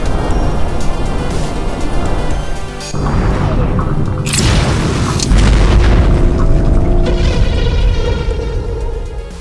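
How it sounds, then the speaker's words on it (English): Booming video-game barrel explosions of several sizes hit one after another, each a loud crash with a rumbling low tail, the biggest blast landing near the end with a deep sustained roar. "There are 3 sizes of normal explosion,"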